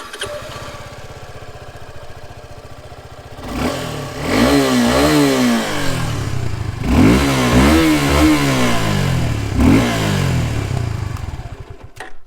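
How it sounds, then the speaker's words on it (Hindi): A 2022 Suzuki Gixxer SF 250 motorcycle idles steadily up close, then its exhaust blares through three loud revs that rise and fall before settling back to idle. "first let's listen to the exhaust note"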